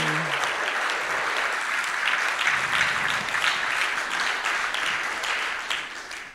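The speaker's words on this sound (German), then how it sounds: "Ja, bitte, klatschen." An audience at a closing event of a European summer university applauds, dense steady clapping from many hands filling the room before it begins to taper off at the end.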